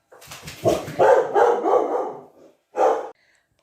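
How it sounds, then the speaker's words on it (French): A dog barks indoors in a run of quick, close barks followed by a pause and one more sharp bark, loud and alone without talk. "j'ai interrompu la vidéo parce que Dundee aboyait que le boucher était en train de passer"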